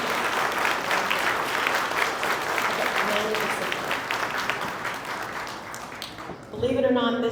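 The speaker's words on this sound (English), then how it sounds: "Now is the moment to applaud." Audience applause fills a gala ball, steady dense clapping from a large crowd that carries on for several seconds, then thins as a voice begins speaking over the tail.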